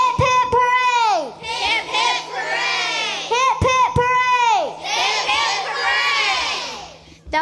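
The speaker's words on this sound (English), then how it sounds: "A little rusty in the cheering category" Children and a crowd at a school event cheer and shout together in two loud, sustained bursts, high excited voices layered over a steady hum, with a short lull between.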